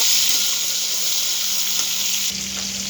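Small shrimp fry in hot oil with chillies, giving a loud, steady, continuous sizzle with a slight shift in tone near the end and no voices.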